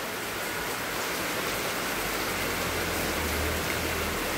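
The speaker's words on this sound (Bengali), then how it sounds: "দেখো আমাদের আগরতলাতে কি পরিমাণে বৃষ্টি হচ্ছে" Heavy rain pours down in Agartala, a dense, unbroken hiss of falling water, steady and enveloping with no gaps.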